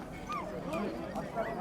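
Forty-day-old purebred Alabai puppies whimper and yip faintly in short rising cries at a dog market, with people talking nearby.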